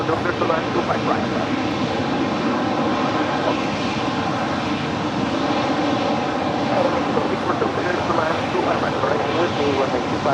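A steady, loud roar of airliner engines fills the air as an Aeromexico flight lands on runway 25 right at LAX, with radio and spoken voices over it throughout.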